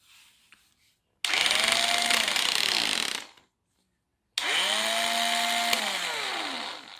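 An old Makita cordless drill whirs in two bursts separated by a pause, each spinning up then winding down, loud and close.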